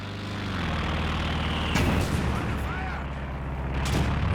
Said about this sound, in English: Maybe that could have even been the mortar pit that was also barraging over here